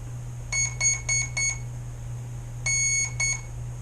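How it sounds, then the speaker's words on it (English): An RC boat's ESC chirps during calibration: four quick electronic beeps, a pause, then another short burst of three, all clear over a low steady hum. "You'll hear it beep 4 times because it's a 4S in this case."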